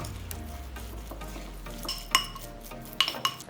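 Meat filling with cornstarch, pepper and minced garlic for cabbage rolls is worked together in a bowl: a soft, steady mixing rustle, broken by a few sharp clinks of a utensil against the bowl near the end.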